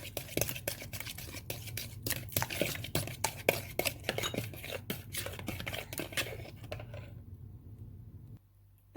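Vinegar and spices stirred together with a spoon in a bowl for a chicken shashlik marinade, giving a steady run of soft clinks and scrapes, quiet and close, before a sudden drop to near silence.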